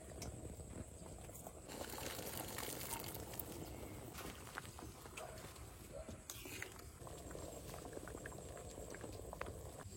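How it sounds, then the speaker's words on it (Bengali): Potato and pea curry simmers in a pot with a faint, steady bubbling and popping that goes on throughout, quiet and close with no talk. "তরকারিতে জাল উঠে গেছে"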